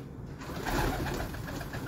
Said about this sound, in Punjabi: ਇਹ ਵੱਡਾ ਕਬੂਤਰ ਹੈ ਇਹਨਾਂ ਦਾ ਤੇ ਇਹ ਅੱਖਾਂ ਦੇ ਟੈਡੀ ਕਬੂਤਰ